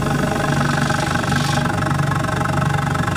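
A car engine idles with its integrated exhaust cutout closed, a loud, steady, close rumble with an even low throb throughout and no talking.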